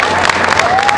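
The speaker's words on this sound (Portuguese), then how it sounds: "Vamos aplaudir" Brief burst of audience applause and cheering at an anime convention stage event, dense and steady over a sustained tone, with no clear talk.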